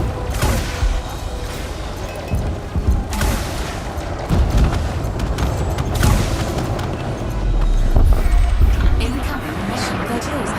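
Missile launches and explosive booms from the Elite Dangerous space combat game, a dense run of heavy thuds and rumbling blasts layered over a voice talking throughout.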